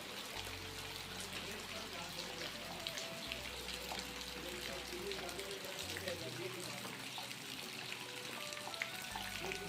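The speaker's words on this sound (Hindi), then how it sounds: "3 दिन से लगातार बारिश बनी हुई है कुछ इस तरह से" Steady monsoon rain in the Uttarakhand mountains patters and hisses continuously over a low, droning hum, with no pauses.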